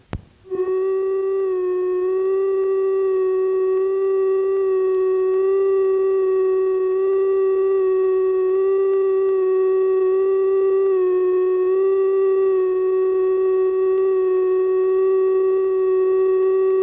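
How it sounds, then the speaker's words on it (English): A 1971 British telephone exchange ringing machine running unevenly gives a loud, continuous droning tone rich in overtones, with a slight waver in pitch as it holds for the whole stretch. "just an ordinary sad ringing machine running unevenly"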